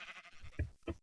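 A sheep in Minecraft lets out a short bleat, with two quick nasal pulses close by, quiet and on its own without talk.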